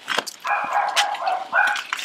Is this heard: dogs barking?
yes